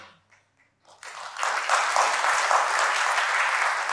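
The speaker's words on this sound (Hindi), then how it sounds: "कुछ लोगों ने बहुत तेज ताली बजाई" An audience at a university address breaks into loud, dense applause after a near-silent pause, the clapping rising quickly and holding steady and close until the end.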